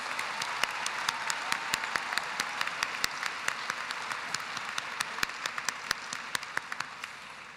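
Steady audience applause fills a graduation ceremony hall, dense sustained clapping from a large crowd with sharp individual claps standing out, moderately distant and without speech.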